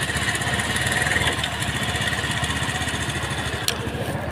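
A village flour mill (chakki) engine runs steadily with a fast, even thumping chug, close and continuous, with no talking.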